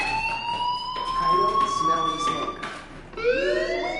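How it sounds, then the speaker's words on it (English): A steady, high electronic fire alarm in the video game Life is Strange wails continuously, loud and close, with people talking over it. "do you hear that fire alarm?"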